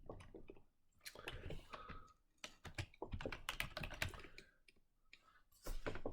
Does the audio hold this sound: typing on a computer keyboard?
yes